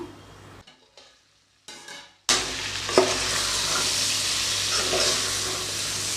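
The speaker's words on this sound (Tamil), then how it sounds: "தேவையான அளவுக்கு உப்பு சேர்த்துடலாம் இது கொஞ்ச நேரம் வதங்கட்டும்" Mutton dalcha ingredients sautéing with salt in a pan: after a few quiet stirring clicks, a loud, steady close sizzle rises and holds, with occasional scrapes over it.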